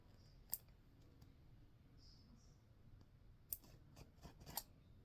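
Scissors trim thread tails from freestanding lace machine embroidery earrings, a few quiet, crisp snips and small clicks spread across several seconds in a hushed room.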